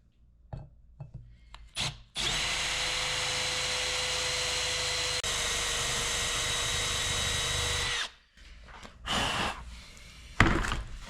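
A drill bores an eighth-inch pilot hole into a broken bolt on a Honda FL250 two-stroke engine, a steady, loud whine running about six seconds without a break, framed by scattered clicks and handling knocks before and after.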